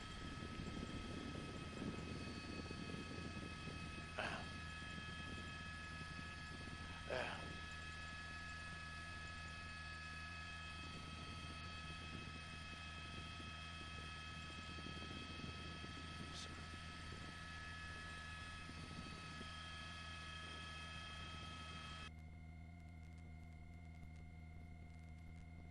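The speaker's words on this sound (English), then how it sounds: "We're going to swing the helicopter around a little bit." A constant droning police helicopter rotor and engine hum continues throughout, steady and fairly faint, with a few faint clicks over the noise.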